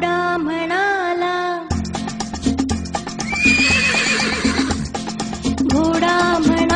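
A horse whinnies with rising, bright neighs over a cheerful cartoon jingle about tailed animals, with steady clip-clopping hooves and music running throughout.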